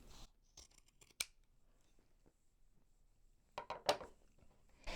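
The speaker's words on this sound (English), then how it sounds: "Take your other sock and cut it off just above the heel." Scissors snip through a cotton sock just above the heel, giving a few short, crisp cutting clicks near the start and a louder cluster of snips near the end, with quiet handling in between.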